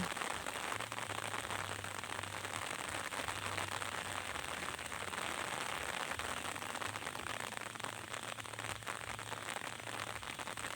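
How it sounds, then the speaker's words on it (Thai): Rain patters and hisses steadily on a surface, with a faint low hum running underneath. "พี่น้องฝนตก"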